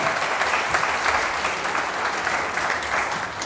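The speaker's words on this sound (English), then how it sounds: "Give a round of applause again to architect Kawarizmi." Sustained audience applause at an architecture design talk in Dhaka, a steady dense wash of clapping from a crowd that holds evenly throughout without fading.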